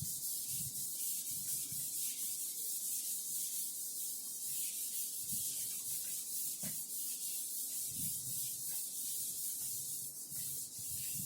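Steady soft rubbing of a board eraser wiping writing off a board, faint scratchy strokes with a few brief knocks, no talking.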